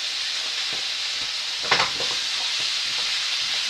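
A quick pan stir-fry sizzles steadily while a utensil stirs it, with a louder scraping stir partway through and softer clinks around it.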